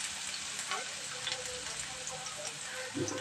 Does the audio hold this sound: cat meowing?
no